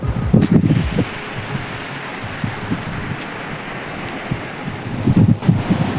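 Wind and sea at Harnai beach, heard from the bastions of Goa fort above Harne port: a steady rush of surf with blustery gusts buffeting the microphone, strongest at the start and near the end.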